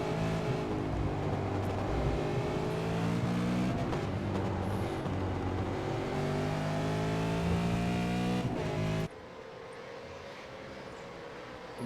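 RUF S3 R9 race cars at Spa in a racing video game, several engines howling down the front stretch in traffic with shifting, rising pitches, then cutting abruptly to a quieter single engine tone.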